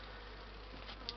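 Honeybees droning faintly and steadily during a transfer into a new hive, a low continuous buzz with a slight swell near the end and no voices.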